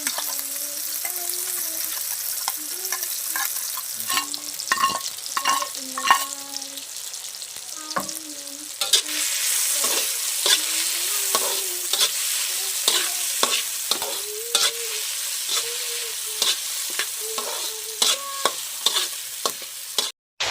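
Cooked ingredients for sautéed chayote shoots are stir-fried in a pan, with a constant loud sizzle under repeated scraping and clanking of a utensil against the pan, close up and continuing for about twenty seconds.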